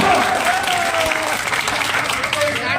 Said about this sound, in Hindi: मैं जोरदार तालियों से स्वागत करती हूँ ऐसी नारी शक्ति को।